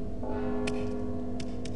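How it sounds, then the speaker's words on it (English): In the stealth video game Mark of the Ninja, a bell rings with a sustained tone over a low background hum, and a few faint clicks sound on top. "Don't you hear the bell?"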